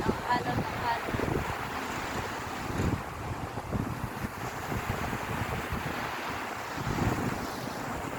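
Ocean waves rolling and washing at sea with strong gusting wind buffeting the microphone, a dense continuous roar with surges of surf.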